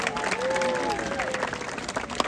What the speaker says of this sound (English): I'm happy to see you clap for his listening.